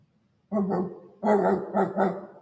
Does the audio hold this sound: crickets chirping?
no